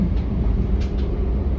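Train running on London's original brick railway viaduct, the early elevated line toward New Cross and Lewisham branching from the southeastern route to Dover: a steady, loud, close rumble of wheels and carriage noise throughout.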